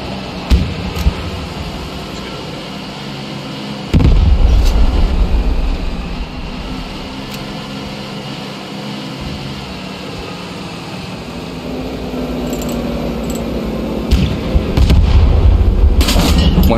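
Three high-explosive mortar rounds launched and landing on a target during a live-fire request, heard as heavy low booms at a distance, one strong blast early and another late, over a steady rumbling background.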